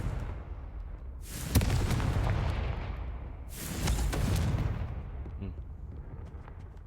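Two big blasting-spell explosions burst in the Hogwarts Legacy video game, each a sharp boom followed by a broad, rumbling roar that slowly fades, spaced about two seconds apart.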